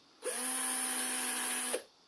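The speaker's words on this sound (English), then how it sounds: "is just run this drill and let it slide back and forth until I get some of them burrs out of the inside" A cordless drill spins a pin inside a Marlin rifle trigger to grind out burrs, giving a steady, loud, high whine that starts abruptly, holds evenly for about a second and a half, then cuts off, with no talking.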